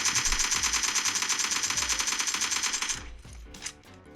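Sustained automatic AK rifle fire from a video game rattles loud and steady for about three seconds, then cuts off into a few scattered fainter shots and clatter.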